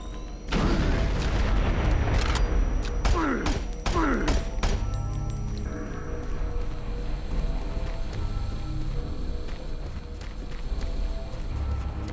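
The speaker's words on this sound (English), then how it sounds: "Grenade." A grenade explosion in Doom 3: BFG Edition, heard as a loud booming blast with crackling debris at the start, followed by several sharp bangs and then a lingering rumbling hum of game ambience.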